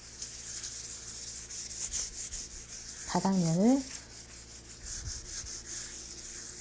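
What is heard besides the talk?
gently rubbing the painted folk art piece smooth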